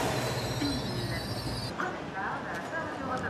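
A TGV Inouï train stands at a station platform, giving off a loud, continuous broadband rumble and hiss throughout. A voice talks over it.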